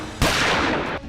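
A single loud gunshot from a police special task force constable firing after stepping out of a police vehicle, a sharp close blast that rings for under a second.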